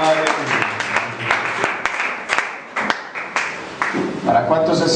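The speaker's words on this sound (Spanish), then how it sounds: "Démosle un aplauso al Señor." A church congregation at a sermon applauds: brisk clapping from many hands mixed with voices and some background music, loud and close, with the clapping rising and falling over several seconds.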